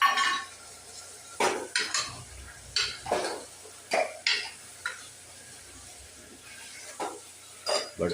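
Spoon scraping and clinking against a pan while garlic chutney is stirred into potato curry, about a dozen distinct metallic strokes in an uneven rhythm, close and fairly loud.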